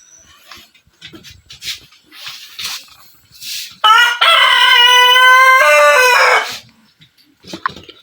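A rooster crows loudly in one long, drawn-out call after a few scattered clucks and soft bird noises, with more faint clucking afterward.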